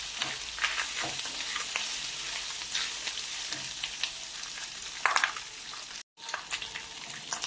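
Chopped leftover lechon hits hot oil in a pan for sisig, giving a steady close sizzle and crackle with a few louder pops and stirring scrapes, a brief silent gap near the end, and no talking.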